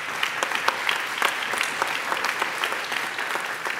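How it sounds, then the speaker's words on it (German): Steady audience applause at a conference keynote, a dense, even wash of many hands clapping close by, continuing without a break. "Ich bin für schnellen Applaus sehr zu haben"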